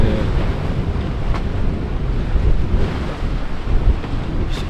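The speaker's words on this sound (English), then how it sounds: "the waves are picking up" Strong wind buffets the microphone while ocean waves surge and slap around a boat at sea in rough weather, a loud, continuous roar with irregular gusts and swells.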